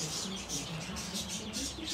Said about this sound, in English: Clayton, the audio's gonna get butchered by the birds